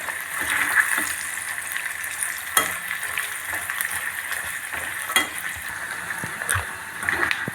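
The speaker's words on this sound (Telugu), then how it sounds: "కొబ్బరి కూడా వేయించుకుంటున్నానండి" Fresh grated coconut fries to golden colour in a pan, producing a dense, steady sizzle up close, punctuated by scattered scrapes and knocks of a stirring spoon.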